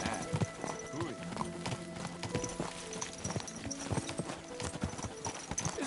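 A horse's hooves clip-clop in a steady, uneven trot with a brief whinny, close and clear over ambient noise, in the medieval game Kingdom Come: Deliverance II.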